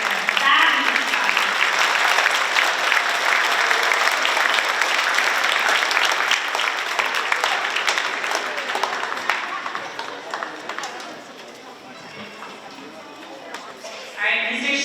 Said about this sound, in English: give a great round of applause for our 5th grade string